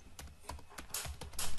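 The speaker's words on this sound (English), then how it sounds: "typing its password" Quick, irregular keystrokes on a computer keyboard as a password is typed at a Linux login screen, close and fairly quiet with no talking.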